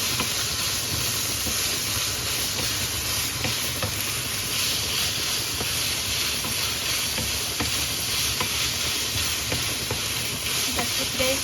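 Spaghetti sauce sizzles and fries steadily in a pan while being stirred, a continuous close hiss with small scraping stir sounds throughout and no talking.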